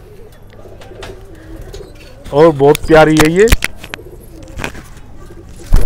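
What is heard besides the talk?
pigeons cooing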